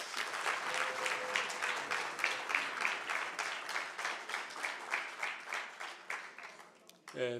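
Audience at an ANC political school in the Northern Cape gives a round of applause, rhythmic unison clapping in steady pulses that keeps going before stopping abruptly, with a murmur of voices behind.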